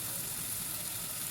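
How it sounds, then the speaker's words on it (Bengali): Shrimp frying in a pan for a Bengali yardlong bean stir-fry, a steady, even sizzle of hot oil with no pauses or voices. "চিংড়িটা দিয়ে একটু ভালোভাবে ভাজতে হবে।"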